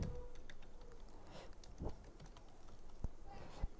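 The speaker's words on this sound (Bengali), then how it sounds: "সো আমরা এখানে লিখব রনি" Typing on a computer keyboard during a lesson, scattered soft key taps at an irregular pace over steady room noise, with a few louder clicks standing out.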